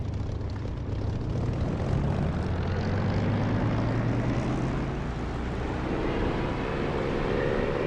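In a DCS flight simulator, a propeller aircraft engine drones loudly and steadily as it throttles up for takeoff, its low hum rising slowly in pitch.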